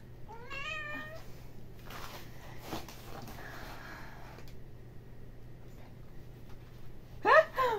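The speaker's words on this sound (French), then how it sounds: "c'est mon chat qui me parle" A house cat meows close by indoors, with a short rising meow near the start and another pair of bright meows at the end, separated by a stretch of quiet room noise.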